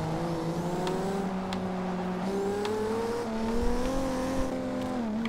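A 1998 Toyota Supra Fast & Furious edition in Forza Horizon 2 drives down the road, its engine droning steadily with rising and shifting tones as the turbo spools, moderately loud and continuous, no talk.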